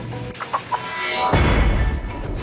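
Hens clucking in a TV commercial for egg substitute, a few short clucks over a steady bed of background sound that swells louder midway.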